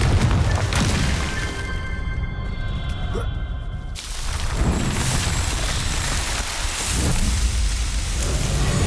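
A fiery Confringo spell explosion in Hogwarts Legacy gives a deep, loud boom and rumble, with a sudden cutoff and then more blasts in a noisy rain-like wash. It plays in a dark, stormy outdoor game scene.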